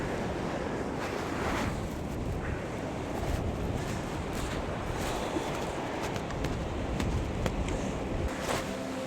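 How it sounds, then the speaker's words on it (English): Ocean waves break and wash on a Tasmanian beach at night, a continuous rough roar of surf mixed with gusty wind buffeting the microphone. "I'm very wary of what these waves are doing"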